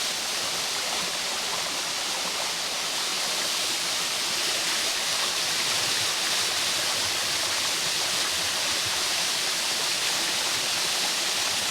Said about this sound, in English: the waterfall straight in front of me